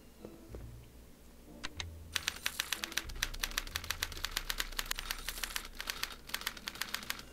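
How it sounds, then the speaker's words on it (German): Typewriter keys in the Back to the Future video game clatter in a few sparse clicks, then break into a rapid, steady run of sharp mechanical strikes over a low background hum. "Was macht diese Schreibmaschine nochmal?"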